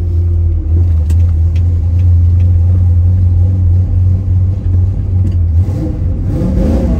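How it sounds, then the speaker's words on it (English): A 1967 Pontiac Firebird engine runs with a heavy, steady low rumble from inside the moving car, swelling as it revs near the end. "The car sounds pretty good too, you have to admit."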